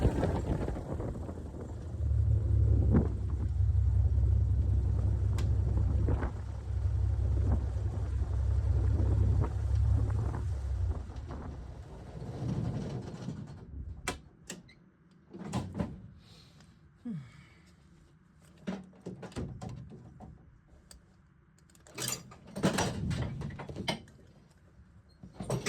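A towplane's piston engine idles loud and steady beside a large fuel tank, then cuts off; the rumble winds down and fades, leaving quiet with scattered clicks, thumps and cockpit handling sounds.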